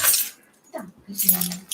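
Keys jangling in bright metallic bursts during a birthday package opening, with short pauses between shakes and a voice speaking briefly in between.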